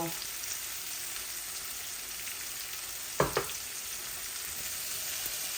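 Pieces of chitol fish fry slowly in a pan with a faint, even sizzle throughout, broken by one sharp double clatter midway.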